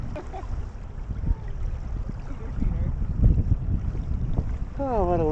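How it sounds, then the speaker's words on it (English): Wind buffeting the microphone during a Lake Superior kayak paddle heading downwind into Copper Harbor, a steady low rumble with light water lapping and a faint voice near the end. "So we're just coming into Copper Harbor, and the wind is perfect and straight downwind to the state park, and Danielle hates me."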